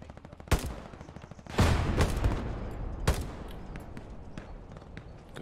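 Gunfire in the Hell Let Loose war game, with sharp loud shots and bursts cracking out at uneven intervals over a rumbling battlefield background.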